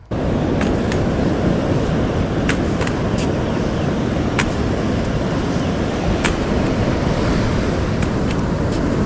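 Big ocean waves breaking on Vilano Beach near St Augustine, a loud continuous roar of surf mixed with wind buffeting the microphone, with occasional faint clicks.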